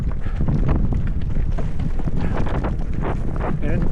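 Steady wind buffets the microphone on a mountain bike trail on Ward Mountain near Ely, Nevada, a continuous loud rumble with gusty texture and no speech.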